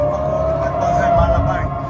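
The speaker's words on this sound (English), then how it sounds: "Sirens fill the night sky over Tel Aviv." Air raid sirens wail over Tel Aviv at night, a steady sustained tone under a low rumbling background.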